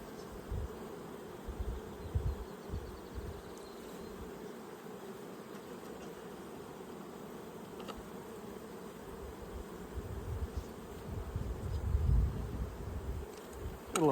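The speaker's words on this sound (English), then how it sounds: "Got a lot of bees looking up at us here." A steady, dense buzz of many honeybees swarming close by an open hive during an inspection, with individual bees droning past now and then and no talking.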